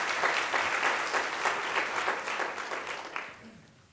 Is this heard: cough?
no